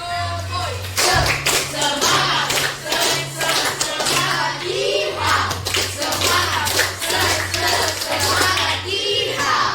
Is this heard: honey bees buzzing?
no